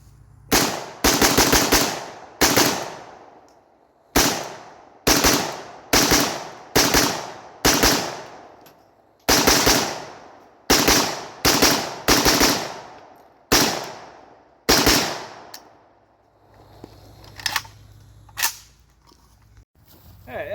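New Colt gun fired, a series of loud, booming shots, mostly single with some in quick succession, echoing outdoors; shooting thins out toward the end with faint background noise.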